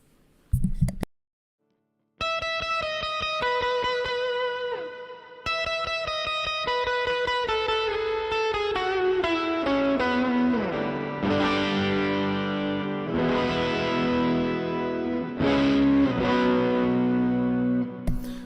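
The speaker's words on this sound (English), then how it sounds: "Let me get some reverb going on here, some delay." An electric guitar plays sustained notes and phrases, washed in echoing reverb and repeating delay trails, loud and alone after a short pause at the start.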